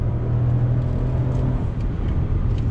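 Cabin of a 2020 Lexus RX 350L under full-throttle acceleration gives a steady, subdued low engine and road rumble with a faint whir, fairly quiet and without talking.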